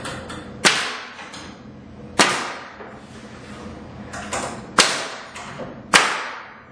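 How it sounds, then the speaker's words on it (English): A nail gun drives nails into wooden trim, five sharp close snapping shots spaced irregularly about a second apart, each with a short ringing decay and faint handling noise between. "God, I love the nail guns."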